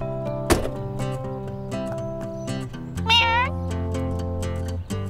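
A cartoon cat meows once clearly with a rising and falling tone, among animated-show music, a thump and people talking.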